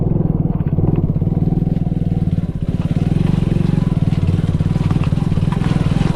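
A motorcycle rolls along in crawling gear during monsoon rain, its engine a steady, close, throbbing putter with a fine regular pulse, joined by wind and rain noise.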